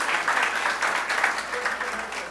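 An audience at a political party meeting in Chaguanas applauds steadily, with a dense wash of clapping and crowd noise running the whole time without a break and without clear speech.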